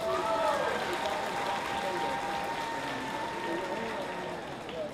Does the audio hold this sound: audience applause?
yes